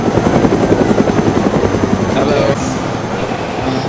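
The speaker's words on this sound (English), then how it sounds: "Helicopter." Helicopter rotor in the DayZ video game, a loud steady thumping chop close by, with people talking over it throughout.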